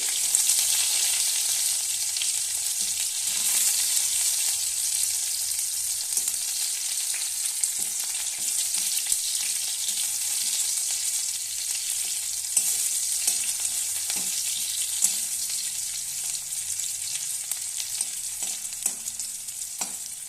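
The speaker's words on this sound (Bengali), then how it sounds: "এবার আমি দিয়ে দেবো পেঁয়াজ কুচি" Chopped onion fries in a pan with small local shrimp, producing a loud, continuous close sizzle with occasional stirring scrapes and taps, no voices.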